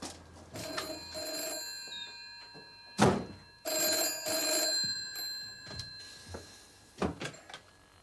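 A telephone bell rings inside a house in a 1980s setting, several loud metallic trilling bursts separated by pauses, with a heavy thunk and some faint rustling in between.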